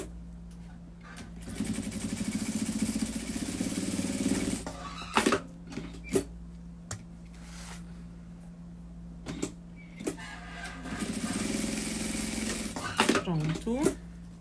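A sewing machine runs in two sustained bursts while stitching a seam along the edges of a fabric doll, steady whirring broken by clicks and handling noises, with someone talking in between.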